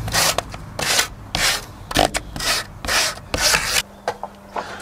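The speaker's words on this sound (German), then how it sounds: "Und die Schnittkanten könnt ihr wunderbar mit so einem Schleifpad bearbeiten." Cut edges of wooden boards for a DIY bike garage are sanded by hand with a sanding pad, giving a series of close, rhythmic rasping strokes, about eight in all, with a faint hum at the end.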